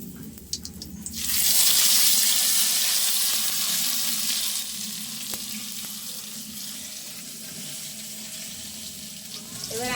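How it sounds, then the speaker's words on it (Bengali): Ground garlic hitting hot oil with cumin seeds, a loud sudden hiss that swells early and then settles into a steadier, quieter sizzle, with no speech. "বেটে রাখা রসুন দিয়ে দেবো তেলের উপরে।"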